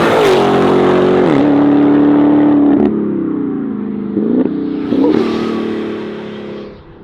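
A Dodge Challenger Redeye Jailbreak accelerates hard on an empty road, its engine roaring loud and close with a steady whine that drops briefly at each upshift, then fades slightly toward the end.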